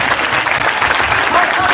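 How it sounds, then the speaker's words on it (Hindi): A crowd at a Bageshwar Dham Sarkar religious gathering applauds loudly and steadily, with dense continuous clapping close by and a few voices mixed in. "जोरदार ताली बजाकर धन्यवाद दो इनका।"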